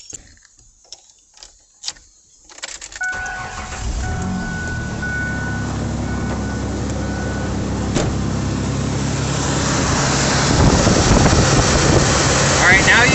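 A 1999 Ford Ranger 4.0 engine cranks briefly with a starter whir, then catches and settles into a steady, loud idle that builds slightly in intensity, after a few faint clicks and handling sounds.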